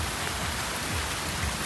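Steady rain pours down outdoors beside a Honda ADV 160 scooter, a dense, even hiss of drops with a low rumble underneath, continuous and close with no pauses or voices.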